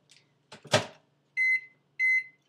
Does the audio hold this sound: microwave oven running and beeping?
yes